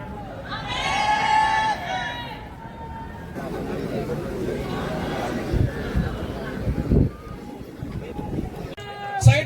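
Crowd babble at a peaceful Cockroach Janata Party protest in Pune, a dense murmur of many voices with louder nearby speech and shouting rising and falling over it.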